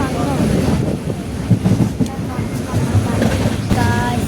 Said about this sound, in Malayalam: ട്രെയിനിൻ്റെ ഉള്ളിൽ നിന്നാണ് കേട്ടത്